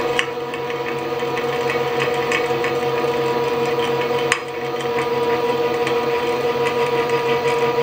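A Getter Out tool driving out broken studs from an oil housing, a loud steady mechanical whirring with rapid rattling vibration as the threads break up, one sharp knock partway through, continuous and close.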